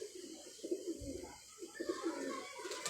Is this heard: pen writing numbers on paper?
no